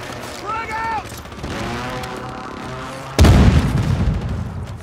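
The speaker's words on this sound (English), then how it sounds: "Frag out!" A frag grenade detonates in a Warzone 3 firefight, one loud, close boom arriving abruptly late in the clip and rumbling out over a background of game noise and talk.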